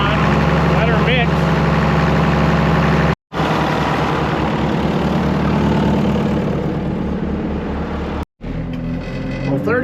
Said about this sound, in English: Put my PTO on, let her mix.